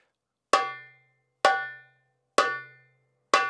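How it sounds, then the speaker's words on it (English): Four high, ringing darbuka tak strokes played with the fingertips near the edge, evenly spaced about a second apart, each sharp and bright with a short decaying ring, close and isolated with no talking. "Tak would be our high pitch sound,"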